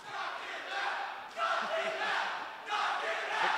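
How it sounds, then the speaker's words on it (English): Live audience at a movie trivia showdown chanting in unison, three rhythmic crowd swells of shouting, loud and full with a roomy echo. "The crowd chanting, knock him out."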